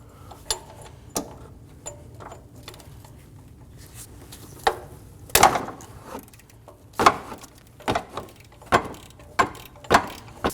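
Ratchet and semi-deep socket working on the serpentine idler pulley of a 2008-2015 Scion xB 2.4L four-cylinder, giving sharp metallic clicks and clunks at irregular spacing, growing busier and louder toward the end, with no talk.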